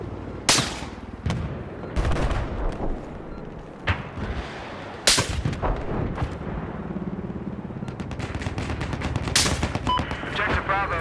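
Rapid sniper rifle shots from a military video game ring out loud and sharp, several cracks spaced across the stretch with booming tails, mixed with game battle noise and bursts of other gunfire.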